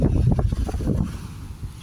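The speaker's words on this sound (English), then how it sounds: "windy and rough today" Gusty wind buffets the microphone at a lakefront on a rough, stormy day, a loud, uneven roar that swells and dips without pause.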